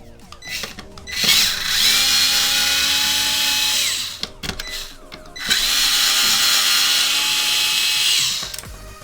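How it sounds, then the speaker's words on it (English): A small power screwdriver drives T8 screws out of an Xbox One X console, two loud close whirring runs of a few seconds each, separated by a short pause with light handling clicks. "So I'm going to switch to a T8, which is the size of these 2 screws here."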